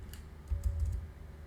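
Keys clatter on a computer keyboard in a short burst of soft, quick taps, close and moderately quiet, with a faint low thump under the keystrokes.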